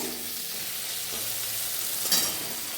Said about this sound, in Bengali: টমেটোটা ফ্রাই হচ্ছে ওর সঙ্গে